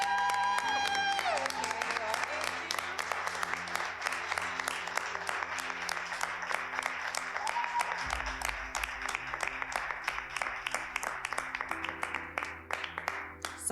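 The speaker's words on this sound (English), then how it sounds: "Somebody behind me is clapping mad loud" Applause at a poetry award presentation, with one person clapping very loudly and sharply close behind, distinct rapid claps standing out over the crowd's steady clapping and a low musical hum.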